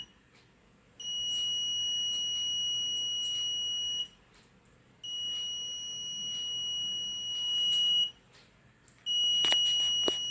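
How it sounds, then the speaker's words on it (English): An Arduino-based fire alarm buzzer sounds a piercing steady tone in three long bursts of about three seconds each, separated by short gaps, close and loud with no speech. "now it has crossed the threshold limit and the buzzer is ringing"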